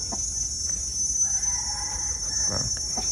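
Chickens at a coop on a farm, with a rooster crowing once in a drawn-out call midway and scattered clucks around it, fairly close over a constant high-pitched insect-like whine.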